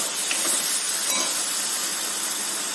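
Tomato sauce goes into a hot pan with onions and soy sauce for vegetable manchuria, and a loud, steady hissing sizzle fills the whole moment, close and unbroken, with no voices.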